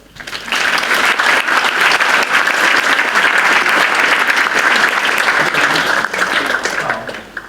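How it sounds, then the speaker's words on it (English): An audience at an entrepreneurs conference breaks into loud, sustained applause for several seconds, clapping densely before tapering off at the end. "Give me a round of applause"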